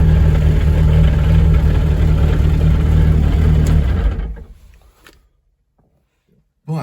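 A Ford Escort's engine runs loud and steady with a low rumble for about four seconds, then fades away to near silence, with a brief bump of noise at the very end.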